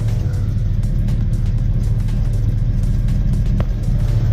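A 1991 Eagle Talon engine idling, not yet at operating temperature: loud, steady low rumble close by with a constant droning tone and no speech.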